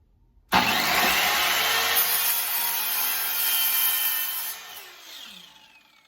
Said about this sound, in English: I just went over and cut this on the portable bandsaw